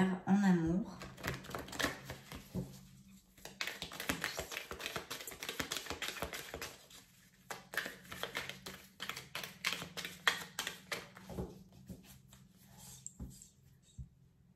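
Tarot cards being cut and shuffled by hand for a reading, a series of close, crisp tapping and riffling clicks in irregular bursts with quiet gaps between.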